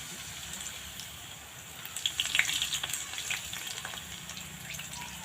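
Jalebi batter frying in hot oil, a steady soft sizzle with a brief burst of louder crackling bubbles midway, close and alone.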